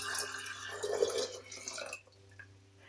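Water kefir poured into a container, a short liquid pour with dripping and splashing that lasts about two seconds and then stops, leaving a quiet room.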